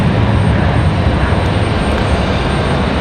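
An airliner departing Raleigh-Durham for Denver produces a steady, loud broadband engine roar, continuous and close, with no voices over it.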